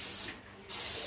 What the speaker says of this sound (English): So spray your pan with it.